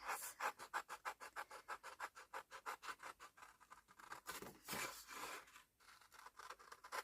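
Scissors snip in a quick, steady run of crisp cuts, then slow into a few scattered snips and paper rustling.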